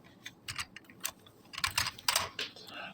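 Code is typed on a computer keyboard into Notepad, close, fairly loud key clacks in uneven rapid bursts, heavier toward the end, with no speech over them.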